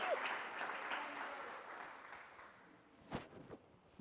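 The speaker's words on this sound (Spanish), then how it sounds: "Vamos a dar una ofrenda de palmas." Congregation clapping together during a church service. The applause is soft, sustained and fades gradually over a few seconds, ending with a few scattered louder claps.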